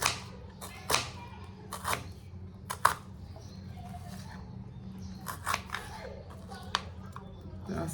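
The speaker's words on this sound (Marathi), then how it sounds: "तर तिथे अर्धा कांदा मी कापून घेतोय." A knife finely chops half an onion on a kitchen board. Crisp, separate cutting taps come at an uneven rhythm, close and fairly quiet, with someone talking in between.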